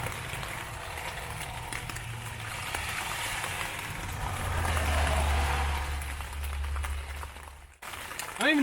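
Steady rain pours down outdoors in Washington, a constant dense wash of patter that swells toward the middle, with a brief dip near the end.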